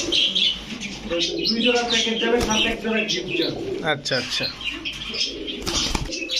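Pigeons coo and flutter their wings close by, with chirps mixed in, while people talk over them.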